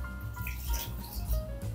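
Half a glass of water pours into a cooking pot for a Spanish-style bisugo fish dish, a short close splash and trickle with a few drips, quiet and on its own.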